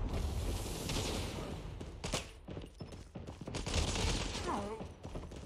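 Hip-fire gunshots in Call of Duty Mobile, a quick burst of rifle shots layered over game sound effects and busy background noise, with a voice faintly under the action.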